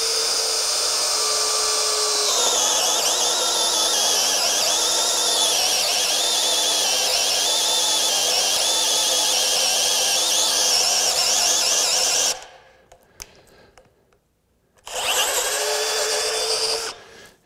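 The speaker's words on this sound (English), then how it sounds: "Let's move over and drill another hole." A Metabo HPT 18-volt cordless drill bores a hole, with a loud, high, whining motor that drops in pitch under load for about twelve seconds, goes quiet, then whines again briefly.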